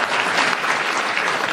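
Studio audience applauding on a panel game show, a steady dense burst of clapping throughout, moderately loud with no talking over it.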